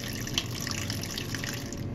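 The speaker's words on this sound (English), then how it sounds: "I'll pour a little bit of coffee" Coffee pours steadily from a pot into a cup in a continuous, close liquid stream lasting about two seconds, with no voices over it.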